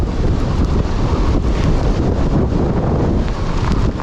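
Strong storm wind roars against a rider on a Kawasaki Ninja motorcycle, a loud, continuous buffeting rush over the microphone that never lets up.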